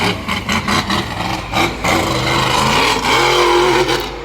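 A monster truck engine at a Swedesboro, New Jersey race revs loudly and close, with choppy throttle bursts at first, then a sustained roaring rise in pitch.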